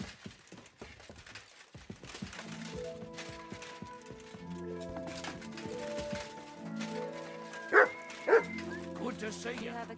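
Two sharp, loud dog barks ring out close by in Kingdom Come: Deliverance 2, rising over steady medieval game music that follows a busy stretch of footsteps and movement.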